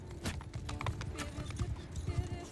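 Cavalry horses gallop across the battlefield in Mount & Blade II: Bannerlord, a dense, rapid drumming of hooves close by with a faint whinny mixed in.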